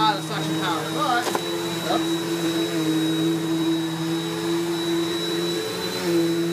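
A Bissell Power Force upright vacuum cleaner from 2015 runs with a full bag, giving a loud, steady motor whine with a high tone. Someone talks briefly over it at the start.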